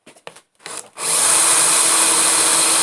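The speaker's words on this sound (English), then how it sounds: "I'm going to try and drill one middle one" Drill bores out a door card fixing stud on a car door, a steady loud whine running continuously after a few short scraping contacts at the start.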